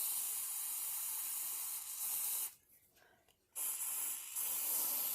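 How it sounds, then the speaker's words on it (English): An aerosol can sprays steadily while pouring acrylic paint, a continuous close hiss that cuts out for about a second and then resumes. "It sounds like I'm spraying in a lot, but I'm actually going really slowly."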